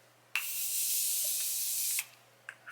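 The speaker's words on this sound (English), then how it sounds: "I'm gonna spray my face down with the Morphe Continuous Mist." Morphe Continuous Mist setting spray misted over a face in one long, steady hiss lasting about a second and a half, close and fairly loud, followed by a few faint taps and rustles.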